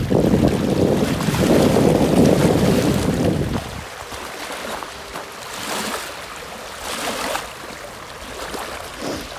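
Strong wind sweeps over a big lake in Rabat, Morocco, roaring heavily against the microphone for a few seconds before easing into lighter, gusty rushes.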